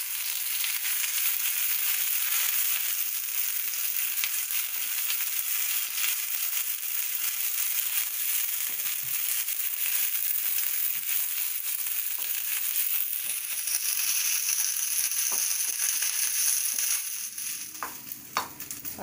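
Herbs sautéing in a pan for a medicinal herb thuvaiyal, a steady loud sizzle and crackle running throughout with occasional stirring scrapes, easing off near the end.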